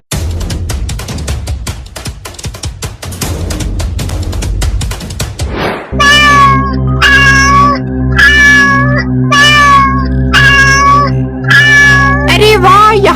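Cartoon kittens meow repeatedly in a bright, rhythmic series of high cries, loud and close, following a burst of busy rattling clatter.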